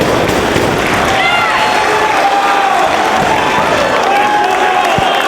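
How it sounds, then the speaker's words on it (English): Wrestling crowd at a live event in Dorchester cheering and applauding, a dense, loud roar of clapping and shouts that continues throughout. "What a great crowd we have tonight here in Dorchester."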